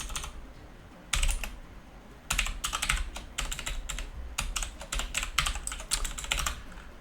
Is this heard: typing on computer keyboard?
yes